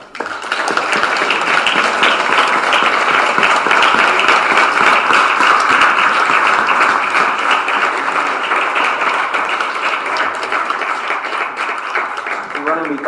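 An audience at a human rights solidarity event applauds the speakers with dense, loud, sustained clapping that rises quickly and holds steady for over ten seconds before tapering slightly.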